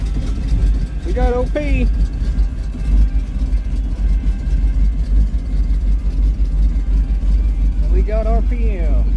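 A cold hot rod engine starts and settles into a loud, lumpy idle, a steady deep rumble throughout with a couple of brief revs, while people talk nearby.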